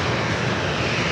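A Lufthansa heavy jet airliner approaching San Diego airport gives a constant, loud, even engine roar with no voices, held at the same strength throughout.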